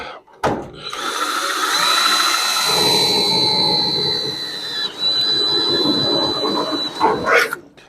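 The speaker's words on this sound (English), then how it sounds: "we got to get a different drill bit" A power drill with a pilot-point bit whines steadily with a high, sustained pitch and grinding mechanical rattle, running several seconds before spinning down, drilling in a Dodge Challenger trunk.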